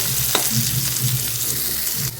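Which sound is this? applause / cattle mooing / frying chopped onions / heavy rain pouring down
frying chopped onions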